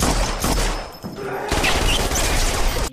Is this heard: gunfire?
yes